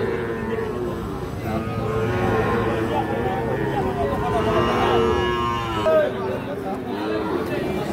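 A Sahiwal bull calf lows at a busy cattle market in Rajshahi, with several drawn-out moos rising over a steady babble of people talking nearby.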